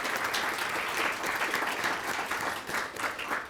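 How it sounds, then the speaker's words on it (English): An audience claps for the speakers and presenters at an event on AI in teaching and learning at Rutgers, a steady, dense wash of applause that holds throughout. "give them a round of applause"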